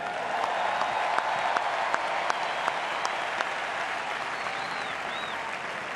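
A stadium crowd at a Chicago Cubs celebration applauds the coaching staff, with steady dense clapping and a few sharp whistles or cheers above it, sustained and even throughout.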